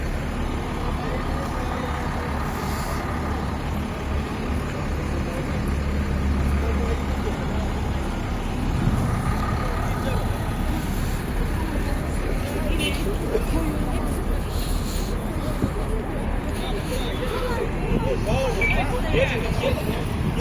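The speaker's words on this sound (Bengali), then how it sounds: "এই যে বিভিন্ন বাস আসতেছে, বাসে এনে পার্কিং করতেছে, ঘুরতেছে।" Steady traffic rumble of buses arriving, turning and parking at a market area in Madina near a mosque, a continuous mid-distance drone of engines with crowd babble and voices throughout.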